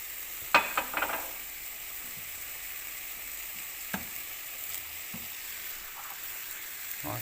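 Mushrooms frying in a pan for bibimbap, a low steady sizzle with a cluster of quick scraping stirs at the start and a few sparse scrapes afterward, close and fairly quiet.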